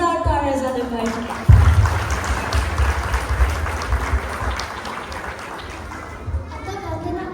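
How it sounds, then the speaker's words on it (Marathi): Loud applause for everyone at a Shiv Jayanti celebration bursts in after a short stretch of voices, stays strong for a few seconds, then thins out, with children's voices and chatter around it. "सगळ्यांसाठी जोरदार टाळ्या झाल्या पाहिजे"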